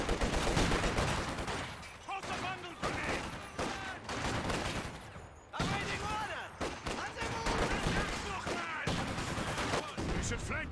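A light machine gun fires in Company of Heroes 2 in repeated bursts, mixed with other battlefield gunfire and impacts. The shots come in dense, rattling volleys with short gaps between them.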